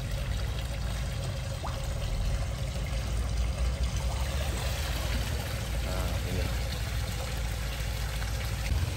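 Koi pond waterfall in a small 3x1 metre minimalist pond, fed by a 5,800-litre pump line, pouring as a steady, continuous rush of water that stays close and even throughout.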